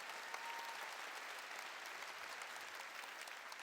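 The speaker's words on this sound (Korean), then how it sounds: "깨달은 사람만 박수 주세요." Steady applause from a church congregation fills the whole stretch, a dense, even patter of many hands clapping without a break.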